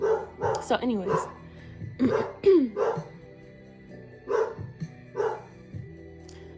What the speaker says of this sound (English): Excuse my dog. The Amazon truck just rolled by, so if he's gonna bark for a second until they go away.